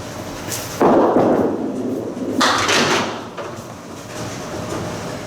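A bowling ball rolls down the lane during a game and crashes into the pins with a loud, sustained clatter. A second burst of rattling pins follows, heard alone without talk.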